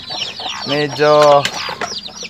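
Chickens cluck and call loudly on a backyard farm flock of roughly sixty to seventy birds, with a harmonic, rising cackle in the middle and a voice talking briefly.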